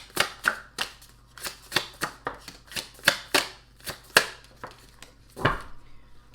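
Tarot cards being shuffled by hand, a steady run of about twenty crisp riffling slaps and flicks close to the listener, with no talk.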